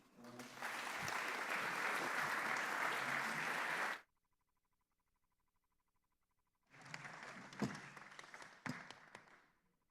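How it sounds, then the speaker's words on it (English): An audience at a weekly club meeting applauds loudly and steadily for about four seconds, then falls silent, and a second burst of clapping follows with some individual sharp claps. "Let's give them a warm round of applause"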